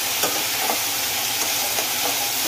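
Tomatoes with salt sauté in a pan for methi mutter malai, a loud, dense, continuous sizzling hiss right up close with faint stirring scrapes, alone without speech.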